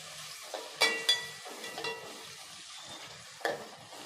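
Chopped onions and curry leaves sautéing in a hot pan, a steady frying sizzle with a few sharp clatters of stirring near the start and another stir later.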